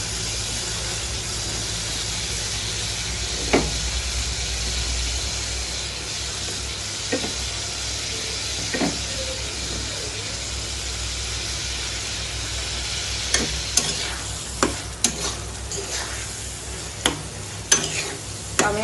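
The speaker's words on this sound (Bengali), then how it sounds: "এখানে আমি এখন আলু দিয়ে দিচ্ছি" Potatoes hit a pan of frying spices and are stirred, producing a steady close sizzle with scattered scraping clicks of a utensil growing more frequent toward the end.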